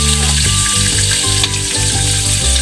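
Onions sautéing in hot oil for a Filipino vegetable dish, a dense steady sizzle close up, with faint stirring scrapes and no talk.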